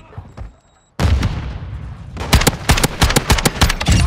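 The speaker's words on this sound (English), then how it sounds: "This thing doesn't know I'm shooting at him." Rapid bursts of automatic gunfire from the Call of Duty MW2 video game, a quiet lull, then a sudden loud stream of shots that grows into dense repeated cracks, with faint game voices underneath.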